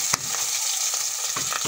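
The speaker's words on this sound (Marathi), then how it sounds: "तेल आता आपला गरम झाला. अंडे घालून घेऊ त्याच्यात सगळे." Eggs fry in hot oil in a pan for egg biryani, a steady close sizzle with a few sharp spattering pops scattered through.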